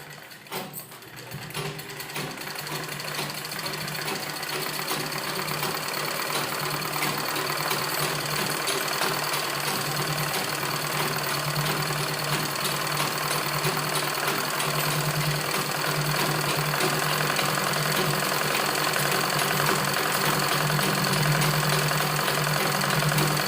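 A sewing machine stitching a trouser seam, a steady close whirring drone with a fast rhythmic knock that runs without a break and grows slightly louder.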